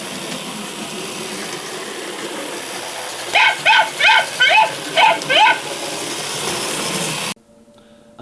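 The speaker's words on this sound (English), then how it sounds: "every so often as a train goes past the dog comes out" A model railway's animated dog in a trackside kennel barks six times in a quick, evenly spaced run, loud and close, over a steady mechanical hum of the passing train and layout.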